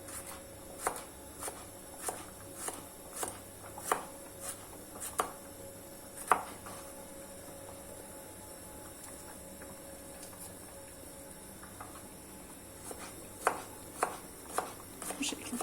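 A knife chops gherkins steadily on a board, a run of sharp taps at an even pace, then a pause and a few more cuts near the end.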